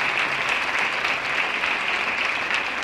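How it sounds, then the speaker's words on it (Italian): An audience at a Lions Club Genova event breaks into steady, dense applause honoring a doctor, many hands clapping together in a continuous wash of sound throughout, with no voices standing out. "E questo è il dottor Fantino, a cui pregherei tutti di fare un applauso,"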